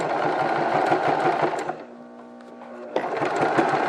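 A sewing machine stitches a front slit on a garment, running in a steady, loud buzzing burst, pausing briefly with a low hum, then starting up again at full speed.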